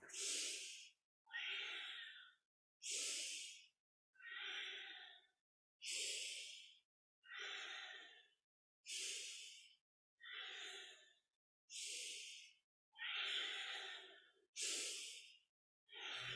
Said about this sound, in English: deep inhale